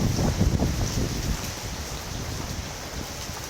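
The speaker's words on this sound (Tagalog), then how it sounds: "lakas ng ulan eh" Strong typhoon wind roars with a dense hiss of heavy rain in Cavite, Philippines, a constant rushing storm noise buffeting the microphone, no voices.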